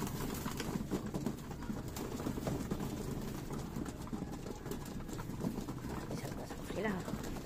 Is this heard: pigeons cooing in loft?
yes